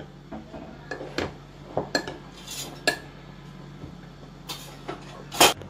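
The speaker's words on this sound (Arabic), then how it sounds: "نخلط مليح." A utensil stirs bitter cocoa into an almond filling in a bowl, giving a series of sharp clinks and scrapes against the dish at an uneven pace, close and clear over a quiet kitchen hum.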